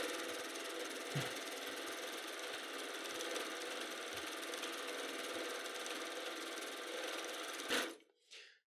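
A sewing machine fitted with a Grace SureStitch stitch regulator stitches steadily with a fast, even whir for several seconds, then stops abruptly.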